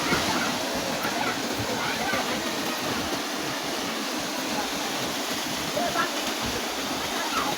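The Yaya River waterfall at Bono Manso, Ghana, roars in a steady, dense wash of rushing, splashing water that fills the whole stretch without a break.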